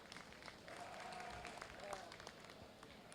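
Audience applause at a National Tunis sheep show, a fairly quiet, steady patter of clapping from a crowd around the ring, with some voices mixed in underneath.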